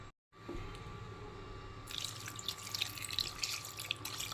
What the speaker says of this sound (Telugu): ఇది కొంచెం వాటర్ పోసుకొని ఒక 3 విజిల్స్ వస్తే సరిపోతుంది